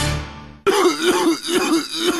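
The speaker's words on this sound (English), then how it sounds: "Sounds like you got a nasty cough." In a video game talk radio ad, a single rough, hacking cough rattles in a few quick pulses after a short musical tone cuts off abruptly.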